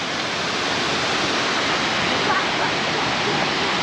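The Whitewater River flows near a waterfall at Thistlethwaite Falls in Richmond, Indiana, heard as a steady, loud broadband rushing of water with no clear voices.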